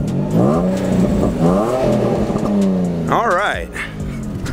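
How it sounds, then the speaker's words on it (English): A Nissan 350Z fitted with a Ford exhaust revs hard in a few rising and falling bursts, loud and close, with a short sharp blip near the end and someone speaking briefly over it. "I'm gonna just rev it up real quickly to let y'all hear it."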